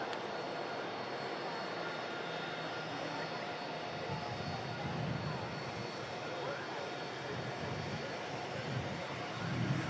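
A Jet2 Boeing 757 in the .com livery heard at a plane-spotting site, a continuous broad engine roar holding steady throughout, with the sound of speech faintly mixed underneath.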